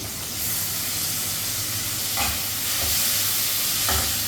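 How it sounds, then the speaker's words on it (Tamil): Mango, jackfruit and banana sauté in hot ghee with a loud, steady close hiss and sizzle, broken by a few soft scrapes of a stirring spoon. "ஒரு 2 நிமிஷம் இது நல்லா வதக்கிக்கோங்க. நெய்யில் வதக்கிட்டு"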